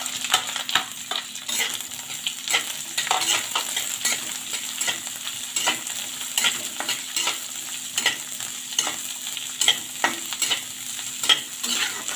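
Onions fry in oil in a pan for bread poha, a steady soft sizzle broken by frequent scraping stirs of a spoon, no talking.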